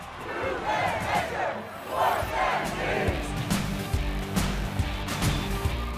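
A bloodthirsty crowd at Thunderdome combat during the Wasteland Weekend post-apocalyptic festival roars and chants in rhythmic surges, with sharp impacts and shouts breaking through the continuous loud din.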